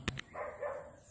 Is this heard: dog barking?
yes